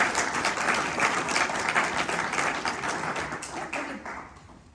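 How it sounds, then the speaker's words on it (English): An audience at a 2025 candidate forum in Washington, Iowa claps for the candidates, a dense, steady round of applause that fades off over about five seconds. "So please give our candidates a round of applause for everything so far."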